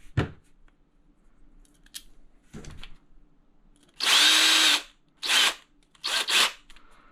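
A power driver tightens screws into a Daymakers alpine ski touring adapter plate: two faint short taps, then three loud, close whirring bursts in quick succession, the first longest.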